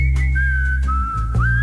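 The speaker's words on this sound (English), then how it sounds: "A melancholy whistle." A person whistles a slow, melancholy tune at a karaoke bar, a clear sustained wavering melody heard close over a low steady musical backing.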